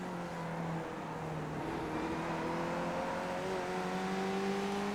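A sim racing game car on narrow tires drones steadily at high revs, its engine pitch slowly climbing and shifting in layered tones, loud and continuous with no talk.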